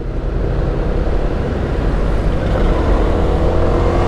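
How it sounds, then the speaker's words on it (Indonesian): Heavy night traffic with large vehicles on the busy Cadas Pangeran road in Sumedang, a steady loud engine roar and rumble with no break and no speech. "wajar kalau misalkan jalanannya padat dan dilalui kendaraan besar"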